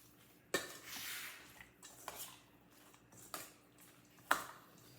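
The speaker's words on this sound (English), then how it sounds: "We're going to mix all this up together." Egg roll filling with sesame oil being stirred in a bowl, producing close, quiet scraping and soft squishing with a few sharp utensil clinks against the dish, spaced irregularly.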